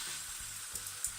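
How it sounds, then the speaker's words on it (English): Food frying in a pan as it turns golden, a soft steady sizzle with a few faint stirring clicks, heard alone and at low volume. "Now I will fry it until it becomes golden."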